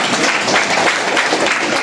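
An audience at a health talk on stem cell nutrition therapy claps in a dense, even burst of applause that lasts about two seconds.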